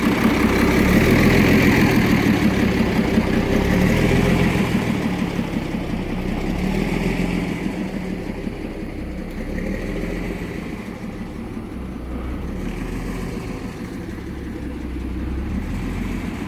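A Suzuki M109 motorcycle engine idles steadily nearby with a low, throbbing exhaust rumble, its idle hunting slightly as the level dips and swells, running alone without talk.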